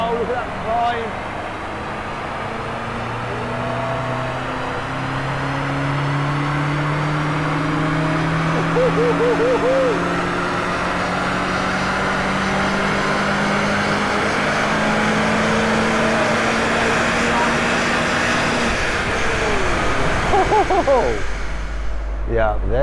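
The new BMW M5 engine climbs steadily in revs on a dyno run, a loud rising drone held for many seconds before cutting off, with voices talking over it.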